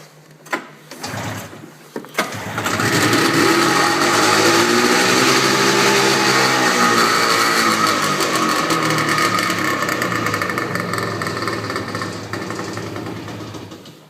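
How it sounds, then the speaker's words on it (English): A vintage Ski-Doo Elite or Rupp Nitro snowmobile engine is started on choke: a few pull-cord tugs, then the motor catches and runs with a steady buzzing idle that holds for over ten seconds, close and alone. "I'm going to try to fire this thing up. See how well it starts. Get some choke."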